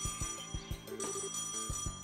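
A telephone rings in the video game Trails in the Sky, a bright repeating bell tone over rhythmic game music with low thumping beats and no talking.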